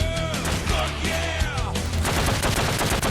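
Longneck rifle firing in the survival game Ark, a loud close volley of sharp cracking shots that grows into a rapid string of reports near the end, with brief whistling tones early on.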